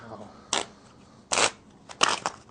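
A deck of playing cards being shuffled during a card trick, heard as three short riffling bursts, each crisp and close, the last one split into several quick flutters.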